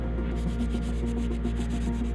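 Continuous rhythmic rubbing of 400 grit sandpaper wrapped inside a machined fire piston cylinder, smoothing its rough bore, steady back-and-forth strokes close up with no talking.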